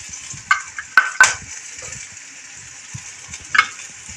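Onion and vegetables fry in a pan for spring roll filling, with a soft background sizzle broken by a few sharp scraping and stirring clatters of a spatula, close and fairly loud.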